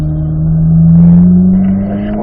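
A race car accelerating out of a corner, its engine note climbing in a loud, close, continuous rumble and drone before easing slightly.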